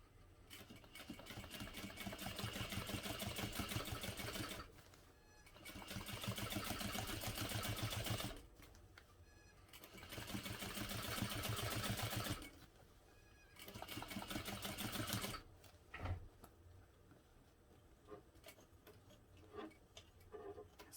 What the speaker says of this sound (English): we'll sew all the way around the bottom panel